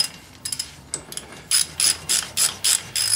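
A wrench ratchets on a brake retaining nut during an S30 front brake upgrade: a few short clicking bursts, then a rapid run of loud, evenly spaced ratcheting strokes, close up.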